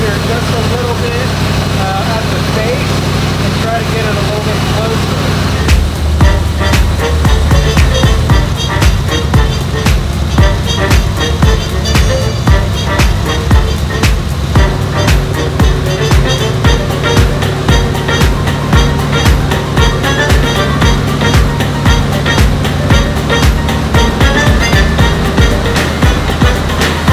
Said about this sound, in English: with the engine running, I was revving the engine up